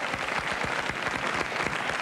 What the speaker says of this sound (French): On applaudit Maurice.